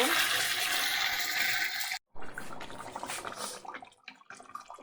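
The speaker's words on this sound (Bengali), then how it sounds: "এবার গরম জল দিয়ে দেবো" Hot water poured into a pot of mutton and potato curry, a steady rushing gush for two seconds, a brief break, then uneven splashing and bubbling pours that taper off, close and fairly loud.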